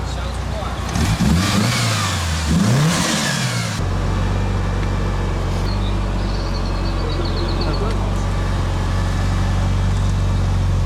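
A Mitsubishi Lancer Evolution VII RS engine revs hard at a track day sound test, climbing and dropping in pitch a few times, then settles into a loud, steady high idle that drones on.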